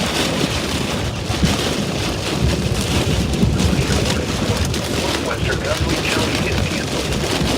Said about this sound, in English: Rain should start to lighten up here momentarily.